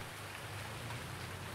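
Steady rain falls in Farming Simulator 19 on the Medicine Creek farm map. It is a soft, even hiss of continuous rainfall with no talk and no thunder.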